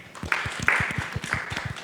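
An audience claps hands together in a short burst of scattered, uneven claps lasting under two seconds, moderately loud and close, with no talk over it.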